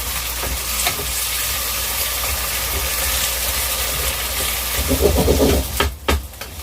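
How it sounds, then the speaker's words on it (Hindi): Potato slices stirred with a spoon in a pan of frying spice masala, a continuous soft sizzle with a few louder scraping stirs near the end, and no talking. "थोड़ी देर इस मसाले के अंदर आलू को हमने चम्मच चला देना है"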